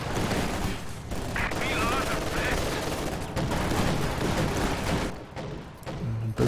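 Small arms fire crackles in dense bursts during a 2v2 Company of Heroes 2 match, steady and moderately loud throughout, with a commentator talking over the battle.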